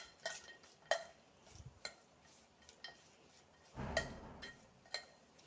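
A spoon mixes sliced onion with vinegar in a bowl, making scattered clinks and scraping taps against the sides in an irregular rhythm, close and fairly quiet.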